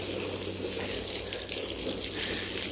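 Steady rushing water runs continuously without pause, a broad wet hiss of water flushing through a wool rug during urine treatment, close and fairly loud.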